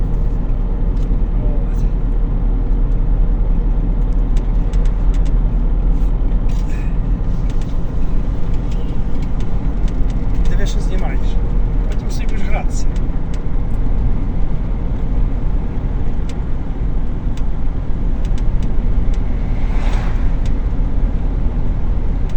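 A car drives on a road through traffic toward Ternopil in Ukraine, giving a continuous low rumble of engine and road noise inside the vehicle while someone talks over it.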